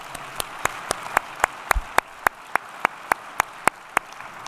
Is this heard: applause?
yes